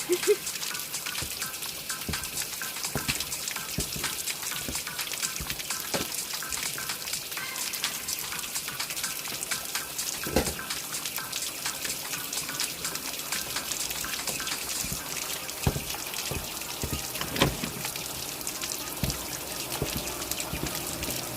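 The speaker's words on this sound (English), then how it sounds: "Rinse this up and then put the clean ones back in here." Dishes rinsed under a running kitchen tap, a steady close hiss of flowing water with occasional clinks and knocks of crockery throughout, no voices.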